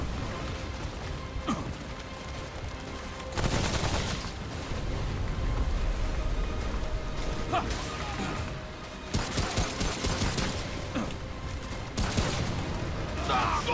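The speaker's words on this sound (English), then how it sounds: "I wasn't expecting that kind of sincere firefight there" Video game firefight with bursts of rapid gunfire and heavy impacts in clusters, loud and close, separated by quieter stretches of background game sound and occasional speech.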